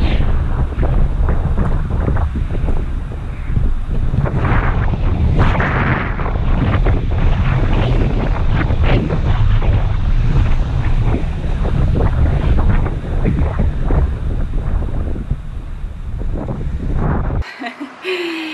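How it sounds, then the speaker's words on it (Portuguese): Strong wind gusts of Hurricane Dorian in Orlando roar and buffet the microphone outdoors, a loud continuous rushing with surging gusts throughout, cutting off just before the end. "Ah, tem um vento."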